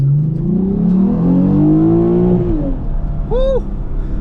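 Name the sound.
Lexus IS350 car accelerating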